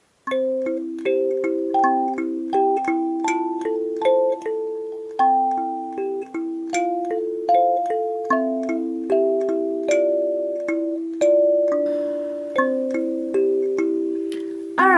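A kalimba plays a fuller melody, added notes layered under the tune so plucked tines overlap and ring together in a flowing rhythm, close and bright with no talking.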